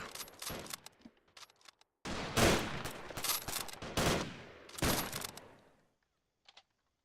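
Gunfire rattles through a WWI-era strategy game battle set in the 1919 German Revolution. Bursts of rifle and machine-gun fire crack in loud clusters with short pauses between them, then fade to near silence.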